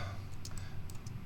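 Keys on a computer keyboard are pressed while working in Illustrator, producing a few light, quick clicks in small clusters over a faint hum, close and quiet with no voices.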